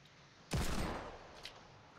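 A single loud, close gunshot in Fortnite with a short decaying rumble, followed by a faint second pop, against quiet game background.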